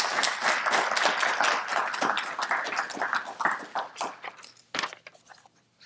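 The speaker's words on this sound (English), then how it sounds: "Let's give them a round of applause" A round of applause at a Scouting breakfast event in Prince George's County, with dense clapping from a room of people that thins out and fades after about four seconds, a few last claps trailing off.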